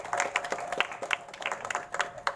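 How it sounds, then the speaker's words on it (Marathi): An audience at a Rajarshi Shahu Maharaj birth anniversary ceremony claps together, a brisk, fairly steady patter of many hands at moderate distance, with no talk over it. "सगळ्यांनी टाळ्या वाजवूयात"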